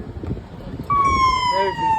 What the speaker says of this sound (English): There's your siren.